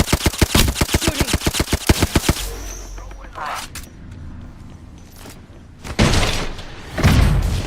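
Rapid automatic gunfire from the video game Apex Legends rattles in a fast, even burst, then gives way to scattered impacts and quieter game noise.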